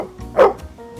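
A single short bark from a dog at an auto body shop, close and clear, standing alone over a quiet background hum.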